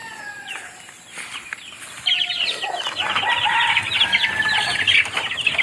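Backyard hens cluck and chatter close by, a busy overlapping flock growing louder after a quieter start.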